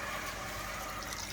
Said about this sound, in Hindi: ये करने के बाद now we add all of the water.